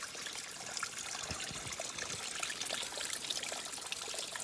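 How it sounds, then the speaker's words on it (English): A small mountain stream trickles steadily in the Idaho backcountry, a soft, even wash of running water heard alone and at low volume. "What a great water source to find out here."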